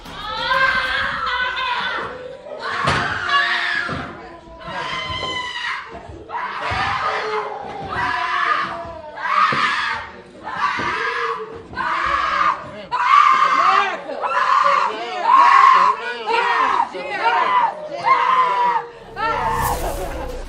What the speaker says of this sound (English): the screams of their family members